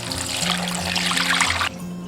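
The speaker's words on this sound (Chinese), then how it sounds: "首先，我们先把海带泡发" Water pours steadily into a container to soak a sheet of dried kelp, a continuous trickling splash that runs close and fairly loud for most of the moment, then stops abruptly into a low steady hum.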